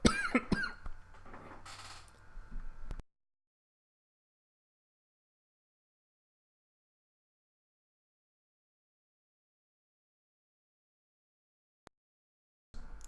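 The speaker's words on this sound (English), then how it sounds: "Coughed" A few harsh coughs and throat clearing close to the mic during the opening three seconds, then near silence, with a faint click and a brief return of sound at the end.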